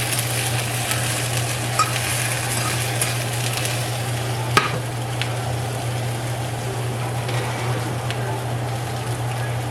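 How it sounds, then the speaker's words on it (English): Water sizzles steadily in a frying pan around cooking sausages, a constant close hiss with occasional scrapes of stirring and one sharp clink, no talking. "I'm just going to let this water go ahead and sizzle down"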